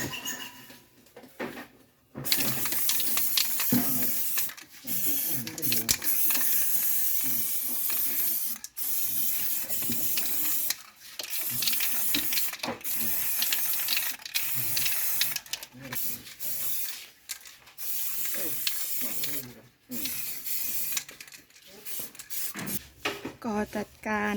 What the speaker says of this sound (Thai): พ่นสีให้เรียบร้อยนะคะ